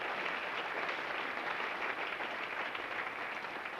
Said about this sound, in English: if we give him a round of applause